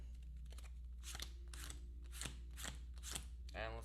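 Cards drawn one by one from an Arkham Horror deck, about five soft crisp slides and snaps at a steady pace, close and quiet over a low hum.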